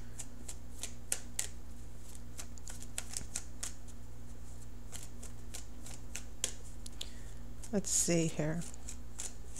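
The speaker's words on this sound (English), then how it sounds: "So as I shuffle for an outcome card" Tarot cards shuffled by hand, a series of crisp riffling snaps and flicks at irregular intervals, close and fairly quiet, with a person briefly speaking near the end.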